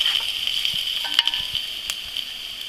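Garlic frying in a pan for chicken and kale lasagna, a steady bright sizzle with scattered pops and light stirring taps, close and continuous.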